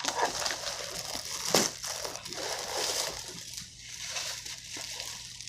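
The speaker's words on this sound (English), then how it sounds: "Just gonna rip this part open." New speaker packaging is ripped open close up, with continuous crinkling, crushing plastic and cardboard and a sharp tear midway, fairly loud with no voices.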